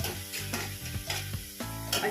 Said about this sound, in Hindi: और धीमे धीमे आंच में इसे अच्छी तरह से भून लेना है